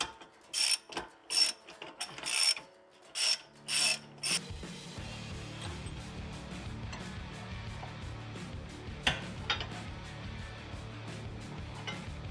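Hand tools work on old steering stabilizer brackets: several bursts of quick ratchet clicking come first, then a continuous low mechanical rumble with scattered metallic clanks, close but fairly quiet.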